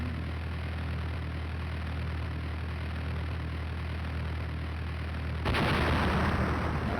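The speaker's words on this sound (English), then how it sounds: "these missiles were way off target" A missile explosion bursts loudly near the end in the Stunt Island flight game, after a long stretch of steady engine drone and rumble; no voices are present.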